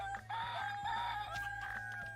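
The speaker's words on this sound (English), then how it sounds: "That's a lot of rooster crowing." Roosters crow repeatedly in the video game Dinkum, several overlapping calls from a flock kept in one spot, steady and fairly faint over a low droning game background.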